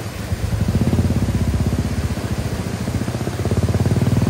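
A motorcycle engine drones steadily and close during a mountain ride, its even pulsing note holding loud and constant through the stretch with no voices.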